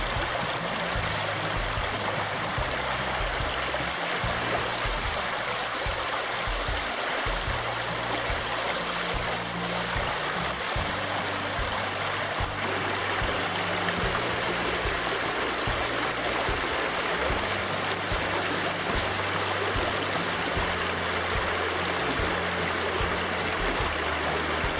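Small Waddell Creek in Washington State running through a gold prospecting sluice, a steady, close rushing and gurgling of water that stays even and continuous throughout.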